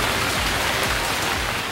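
Steady rain pours down in Islamabad and Rawalpindi, a dense, continuous hiss of drops on surfaces with no gaps or voices.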